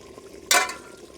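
A small splash of water poured into a handi of mutton, a brief bright burst of liquid hitting the hot pot that lasts about half a second before fading into quiet kitchen background.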